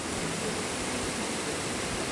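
The Cachoeira das Antas waterfall, heard from above, produces a steady broadband rushing roar of falling water, constant and fairly soft.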